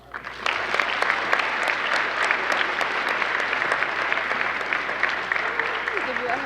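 Warm audience applause welcomes a distinguished alumna home to her school, steady crowd clapping building quickly and holding evenly, with faint voices underneath.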